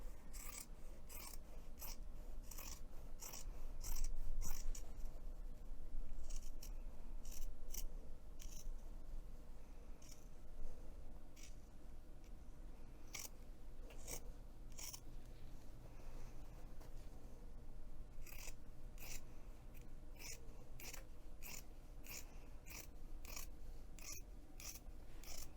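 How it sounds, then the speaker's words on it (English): Scissors trimming a freshly sewn fabric seam down to about a quarter inch while making a messenger bag: crisp, close snips repeating in an uneven rhythm over a quiet background, with no voices. "I'm going to trim that seam that I just sewed in half"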